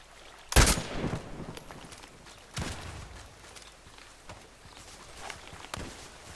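Gunfire in the online shooter Contract Wars: one loud close sharp shot, then fainter scattered shots at irregular intervals over low background noise.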